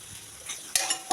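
Chicken is stirred in a frying pan with onion and pepper, a soft sizzle running under scraping spoon strokes that come in a few louder bursts near the end, close up and with no talk.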